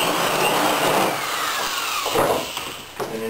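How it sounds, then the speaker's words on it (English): A power drill whines steadily at close range, its pitch dipping and wavering as it bores a quarter-inch hole into a boat hull panel, then easing off near the end. "drilling a hole, quarter inch hole"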